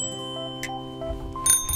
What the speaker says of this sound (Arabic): إنه يصدر صوت رنين.